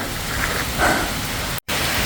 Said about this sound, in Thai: หลบฝนกันก่อนทุกคน ฝนตกหนักมาก